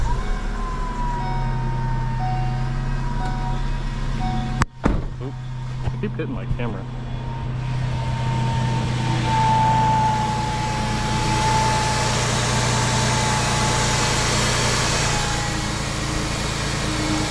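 A Ford Transit van engine cranks and catches about a third of the way in, then settles into a steady idle hum with a faint whine, heard up close with someone speaking briefly.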